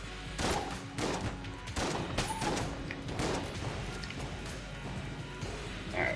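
Rapid video-game gunfire and bullet impacts from Enter the Gungeon on PS4 come as repeated loud bursts and thuds, several volleys close together across the clip.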